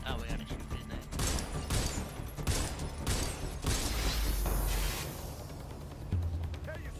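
Rapid gunfire bursts during a shootout in the video game Watch Dogs: Legion, several dense volleys in quick succession over game noise and a low rumble, moderately loud, with a voice mixed in.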